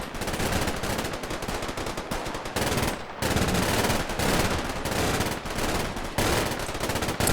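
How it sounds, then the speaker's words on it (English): Sustained machine gun fire in the war game Combat Mission Red Thunder, dense rapid bursts that roar almost continuously and loudly, with brief pauses between volleys. "Jimmy, I have 20 machine guns here."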